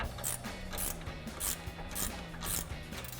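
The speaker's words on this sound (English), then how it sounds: "I'm gonna take a 7/8 socket and start tightening that down" A 7/8 socket ratchet tightening the strut nut on an SR Performance adjustable front strut for a 2015-2026 Mustang, with rapid repeated pawl clicks in short bursts, close and clear.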